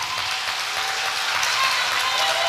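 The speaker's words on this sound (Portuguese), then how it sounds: "Pode aplaudir o Senhor" Congregation applauding during a church service, a steady dense wash of clapping from a crowd that fills the whole stretch evenly with no break.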